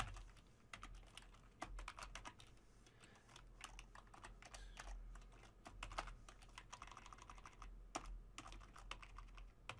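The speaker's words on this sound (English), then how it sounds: "I'm going to just go ahead and type this out." Typing on a computer keyboard while entering HTML code: quiet, continuous clusters of key clicks in an irregular rhythm, with no voices.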